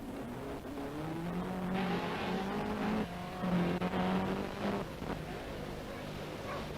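A rally car, number 7, approaches and passes at the 1982 Cork 20 Rally, its engine rising to a steady roar that peaks mid-pass and then fades, with no talk over it.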